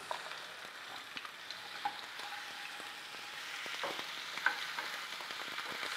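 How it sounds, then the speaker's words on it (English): Chunks of goat meat sizzle and crackle in hot oil, a steady frying hiss with scattered pops and occasional scraping stirs, close by with no talking. "Sizzling nicely."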